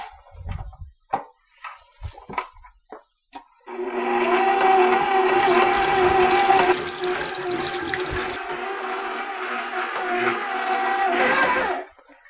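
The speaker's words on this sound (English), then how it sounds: "this will probably knead for about 5 minutes on the mixer" A stand mixer fitted with a dough hook kneads homemade pizza dough. After a few light knocks, its motor starts and runs as a loud, steady whir with a rhythmic churn for about eight seconds, then cuts off. No voices.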